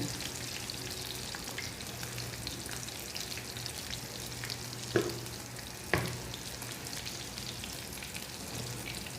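Eggplant and fish frying in hot oil, a steady close sizzle throughout, with two sharp utensil knocks against the pan partway through.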